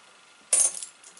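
Metal coins from a season of metal detecting finds dropping during sorting, a single bright metallic jingle close by that rings briefly and fades, otherwise quiet.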